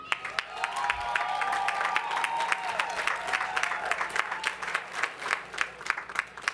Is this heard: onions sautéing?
no